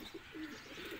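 A Rampuri pigeon gives a few soft, faint coos in quick succession, with no other sounds over it.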